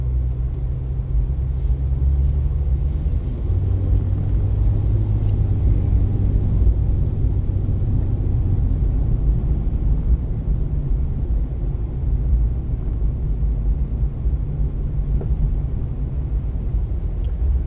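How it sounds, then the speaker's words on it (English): Steady road traffic of cars driving in and out of a new subdivision road, a continuous loud low rumble of passing vehicles with no talk. "All this traffic coming in and out."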